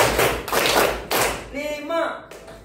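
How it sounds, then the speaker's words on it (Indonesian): A class performs the rhythmic clap-five routine (tepuk lima), with two or three loud bursts of many hands clapping together, then a voice speaking right after. "Tepuk lima."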